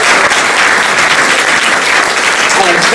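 Sustained applause from a town hall audience, a steady dense wash of clapping filling the room with some voices mixed in.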